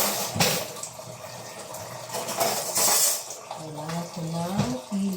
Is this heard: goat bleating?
no